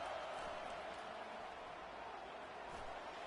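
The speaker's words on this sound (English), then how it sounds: "Listen to this crowd just shaking the girders of this place" A loud college football stadium crowd roars in an enclosed building during a game, a continuous dense wash of cheering and noise with no distinct breaks.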